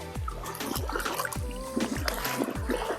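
Water from Son-Kul lake in Kyrgyzstan splashing and gurgling close by, with soft irregular slaps and trickles repeating every half second or so, steady and moderately loud with no one speaking.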